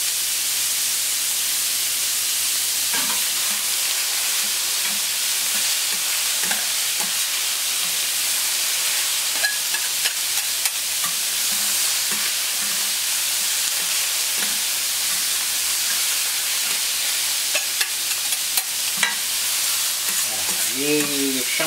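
Beef and mushrooms sauté with paprika in a hot pan, a loud, continuous close-up sizzle and hiss with occasional stirring scrapes, unbroken and with no talking.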